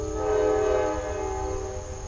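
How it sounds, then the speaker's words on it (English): A train passes near a creek along the Tuscarora River, a sustained horn-like tone over low rumbling, moderately distant and steady for about two seconds. "And we can hear the train."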